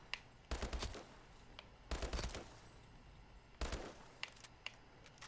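STG44 assault rifle in a video game firing three loud bursts of rapid automatic fire, each about half a second long, separated by pauses with faint ambient game noise.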